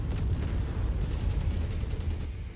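Artillery fire in the video game MechWarrior 5: a dense, continuous low rumble of heavy booms and shell impacts with a fast rhythmic crackle on top. It is loud and close, with no talk over it.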